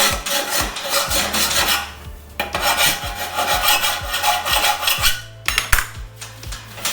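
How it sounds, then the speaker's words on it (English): Double cut half round file rasping across steel in steady repeated strokes, a harsh gritty scrape with brief pauses between passes, close and loud with no talking. "I'm using a double cut half round file."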